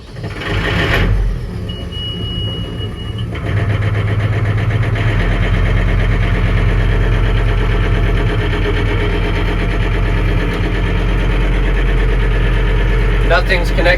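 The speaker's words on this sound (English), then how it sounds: "So let's go start up a tractor." A tractor engine cranks, catches and settles into a loud, steady diesel idle close by, a continuous low rumble running to the end.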